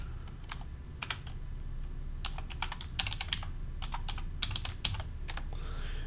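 Someone types a command on a computer keyboard, giving quick clusters of crisp key clicks with brief pauses in between, close and fairly quiet over a low steady hum.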